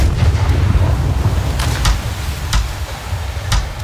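Ship cannons boom in the naval combat game Blackwake: several heavy, sharp blasts over a continuous low rumble of battle, loud and fairly near.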